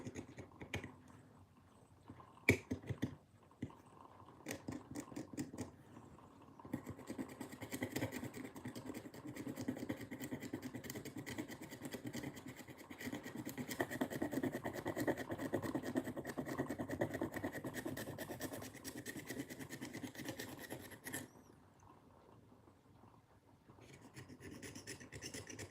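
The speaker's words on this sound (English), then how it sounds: "It's a rotary tool, so it's like a Dremel but cheaper," A cheap Dremel-style rotary tool carves a Blythe doll, a faint steady whirring grind running for long stretches, mixed with scratchy scraping and scattered small clicks.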